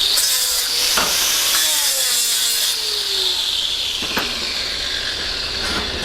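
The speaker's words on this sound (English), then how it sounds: "I'm going to give it a little grind just so if the weld's raised up a little bit" An angle grinder runs steadily against the weld on a metal pipe with a loud, continuous high-pitched whine and hiss, broken by a few brief scraping contacts.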